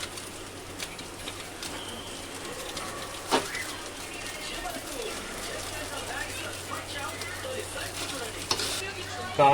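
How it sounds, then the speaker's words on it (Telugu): Chicken roasting in a hot pan with carrot and capsicum gives a steady soft sizzle with occasional stirring scrapes, close by, while birds coo faintly in the background. "చికెన్ వేసుకుని ఒక 2 నిమిషాలు రోస్ట్ చేసుకున్నాం."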